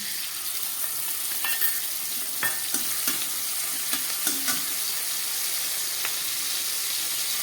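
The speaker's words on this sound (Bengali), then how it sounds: "টমেটো ক্যাপসিকামটা ভালো করে ভেজে নিলাম" Tomato and capsicum frying in a pan, a close steady sizzle broken by scraping stirs and a few sharp clicks of a spatula against the metal.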